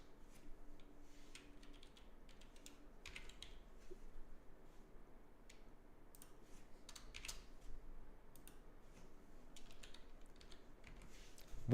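Rapid, irregular keystrokes on a computer keyboard clatter steadily for several seconds, soft and close, with no talking over them.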